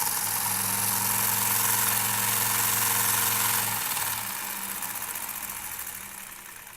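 A vintage sewing machine runs steadily with a humming motor tone for about four seconds after its clutch plate is retightened, then the pitch drops as it winds down and keeps turning more softly.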